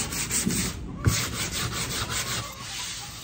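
Rough, bubbly-veneered plywood being sanded smooth: a steady, close, continuous scratchy rubbing that keeps going for a few seconds with slight surges, and no talking.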